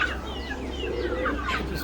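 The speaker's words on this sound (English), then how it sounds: "there are a lot of birds here." Chickens and other birds clucking on a four-acre homestead in Pakistan, a steady overlapping chorus of fowl calls with several rising cries near the end, no talk.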